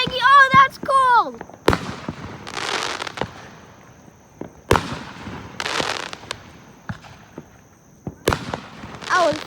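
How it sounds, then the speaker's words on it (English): Fourth of July fireworks go off outdoors in a string of sharp bangs and crackling bursts spaced across several seconds, with a whistling launch at the start and people talking excitedly between blasts. "I just lit my first firework thingy."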